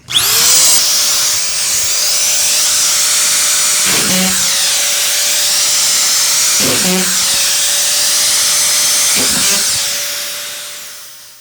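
A power drill drives screws into a drywall sheet fixed to a ceiling. It gives a loud, sustained high whine and buzz, broken by three short bursts as screws seat, then winds down near the end.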